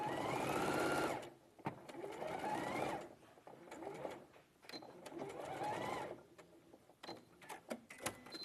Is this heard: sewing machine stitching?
yes